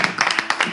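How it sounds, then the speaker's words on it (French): Brief burst of audience clapping for a guest on a French talk show, a quick run of close, sharp claps lasting under a second. "il faut qu'on applaudisse notre invité"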